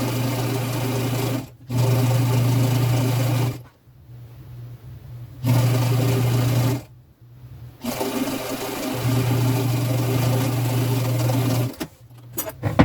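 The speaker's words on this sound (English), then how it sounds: "I'm going to use a straight stitch." A sewing machine runs a straight stitch along a t-shirt hem in several bursts, each a steady whirring hum lasting a few seconds, separated by short pauses.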